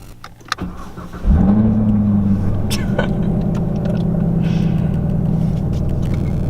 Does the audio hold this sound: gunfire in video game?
no